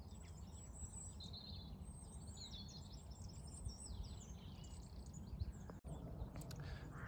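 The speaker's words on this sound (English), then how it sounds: "there's a plethora of wee birds flying about enjoying it" Small birds chirp and twitter steadily in open air over a potato field, faint and at a distance, over a soft outdoor background hiss.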